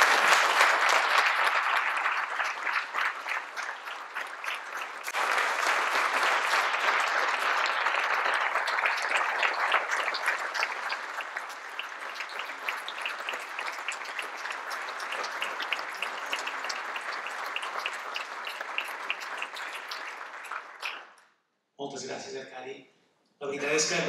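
An audience applauds as a repeated tribute at a talk on historical, architectural and landscape heritage. The clapping is dense and sustained for about twenty seconds, then drops out briefly before two short bursts return.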